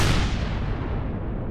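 Gunfire in the sci-fi survival game Empyrion - Galactic Survival, a loud, dense burst of shots rolling into a booming tail that fades over a second and a half.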